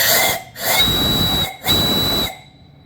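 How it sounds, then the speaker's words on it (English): Antique steam boiler engine whistle blows two loud, close, sustained hissing blasts separated by a brief break, each with a bright steady pitch over rushing steam, fading out after the second. "Really nice whistle on it."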